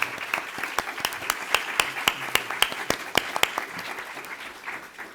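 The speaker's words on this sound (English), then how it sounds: "I think we should give him a round of applause." An audience at a talk on sexual violence and security in the Congo gives a round of applause: steady, rhythmic clapping from a modest crowd, moderately loud and sustained throughout.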